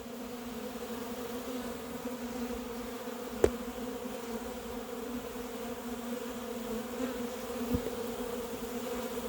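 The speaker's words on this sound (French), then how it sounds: "on voit les abeilles qui se groupent autour de la reine" Honeybee swarm buzzing around a dead queen during a swarm capture, a steady, fairly faint hum of many wings with an occasional brief tap.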